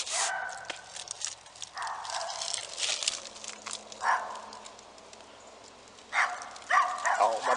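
Several dogs barking in bursts at a distance around an old shed where a 1967 Ford Galaxie 500 barn find is parked, sharp yelps scattered through the stretch, loudest near the end.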